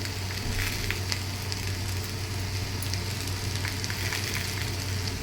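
Sago pearls with turmeric and salt stir-fried in a pan, making a steady close sizzle with faint stirring scrapes throughout and no speech.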